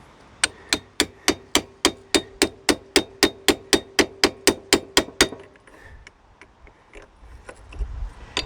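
About seventeen sharp, evenly spaced hammer taps ring out close by as a socket drives a gearbox seal into place on a 2004 Yamaha Breeze ATV, then the strikes stop and faint shop noise remains.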